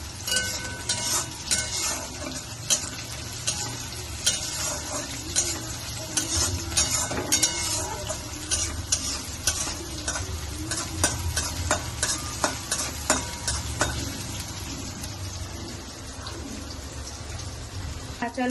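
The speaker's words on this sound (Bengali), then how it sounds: "রসুনটা ভালো করে ভাজতে হবে, একটু লাল লাল হয়ে যাবে রসুন গুলো" Garlic crackles and sizzles in a hot pan, a dense, busy frying hiss with frequent pops and the scrape of stirring throughout, fairly close.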